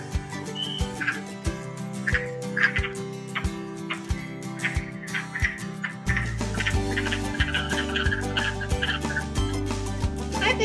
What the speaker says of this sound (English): So if you hear wood frogs calling, it might sound something like this.